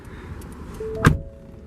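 A single solid thud of a 2016 Ford F-150 XLT door shutting, short and close, with a faint tone just before it.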